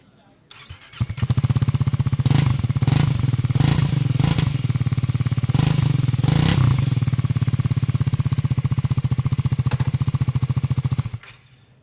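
A Triumph Scrambler 400X motorcycle fires up and idles close by, its exhaust giving a loud, steady, rapid thumping beat that runs for about ten seconds before cutting off.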